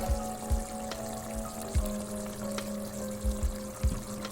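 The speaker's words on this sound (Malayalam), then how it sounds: "ബൗള് കഴുകിയിട്ട് ഈ വെള്ളം ഒഴിക്കുന്നുണ്ട്." Rinse water from a bowl of ground paste is poured into a chicken curry, splashing in short bursts, several brief gushes spaced through the clip over a steady low hum, close by with no talking.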